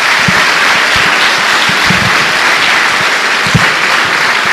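A church congregation breaks into loud, continuous applause during a worship service, dense clapping close by throughout with a few louder thumps standing out.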